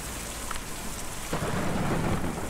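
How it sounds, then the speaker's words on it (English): Steady rain pours over a thunderstorm in the video game Kentucky Route Zero, and a deep rumble of thunder swells midway beneath the constant hiss. "Difficult to see or even hear, storm like that."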